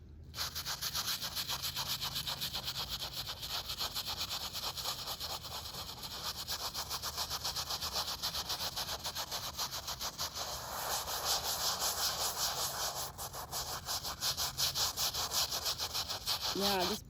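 A hand brush scrubs a stone headstone in a Methodist cemetery, a steady rasping back-and-forth stroke that runs nonstop and close, growing slightly louder toward the end.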